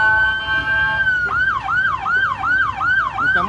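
An ambulance siren on an international highway gives a loud, steady tone, then switches to a fast, repeated rising-and-falling wail, sounding close and prominent over faint road noise.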